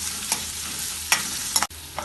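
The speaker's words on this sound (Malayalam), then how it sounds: "ഇതിനി കുറച്ച് സമയം ഇളക്കി വഴറ്റാം." Finely chopped onion is stirred and sautéed in hot oil in a kadai, with a few scraping spoon strokes over a soft, steady sizzle.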